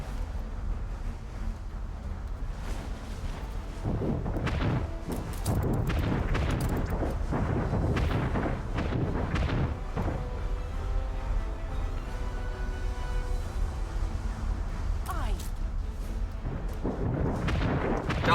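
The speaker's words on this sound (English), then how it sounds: "Fleet, prepare to fire." Warship fleet cannon fire in Anno 1800, a steady stream of deep booms and heavy rumbling volleys, loud and sustained, with scattered sharper bursts and no voices.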